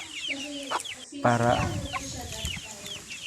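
A mother hen brooding chicks clucks in short repeated calls, while high peeping chicks chirp throughout, close by and with a brief voice mixed in.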